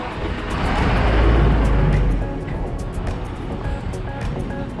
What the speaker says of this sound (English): Even though we're on an island, there are some cars around